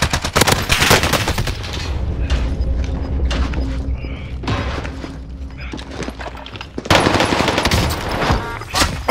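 Rapid automatic gunfire and single shots crackle through a battle royale video game match on the Rebirth map. Loud bursts come close together, with in-game voice callouts and mechanical clatter between the volleys.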